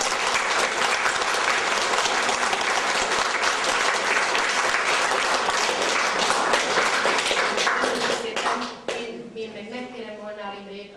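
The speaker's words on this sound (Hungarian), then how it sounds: "kérek egy igen-igen nagy tapsot a Marikának" Loud, sustained applause from a crowd at a pensioners' club jubilee show in Csetény, 2005, filling most of the stretch before tapering off, with a voice starting to speak at the end.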